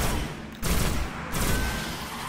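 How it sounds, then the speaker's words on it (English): A fast-firing gun in Destiny lets off two rapid bursts of loud, dense gunfire separated by short pauses, over a constant rumbling game background. "This gun's far too fast."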